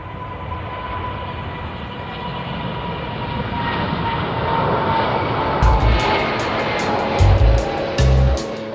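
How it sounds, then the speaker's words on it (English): An aircraft flying parabolic zero-gravity manoeuvres gives off a steady, loud engine roar with a sustained tone. Several sharp knocks and thumps occur near the end. "the aircraft enters a parabolic flight path, reproducing a portion of the orbit"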